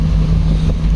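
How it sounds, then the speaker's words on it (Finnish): Boat powered by 2750-horsepower Caterpillar V8 engines off the coast of Spain, a steady low engine hum droning close with wind noise over it, brief and unbroken. "2750 heppasta Caterpillarin V8-moottoria."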